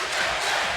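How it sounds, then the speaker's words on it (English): A volleyball crowd of Bronson fans at a Class C final cheers in a dense, loud roar that is sustained throughout, with no single voice standing out. "there's our Bronson crowd"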